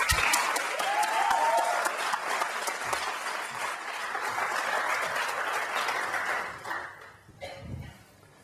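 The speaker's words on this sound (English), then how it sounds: "please join me in a cheer to welcome the most decorated Olympic athlete of all time, the extraordinary Michael Phelps" Audience at a live interview event cheers and applauds to welcome swimmer Michael Phelps, a loud sustained wash of clapping with whoops for about seven seconds before fading.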